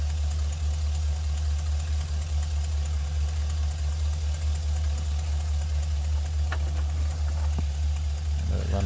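A Chevy/GMC 2500 cargo van engine idles steadily with a constant low rumble and a deep hum that stays loud and close for the whole stretch, with a few faint clicks near the end.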